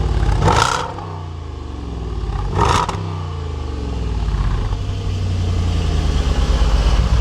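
A Jaguar F-Pace SVR SUV engine rumbles at close range with two short revving exhaust bursts early on, then settles into a steady throaty idle.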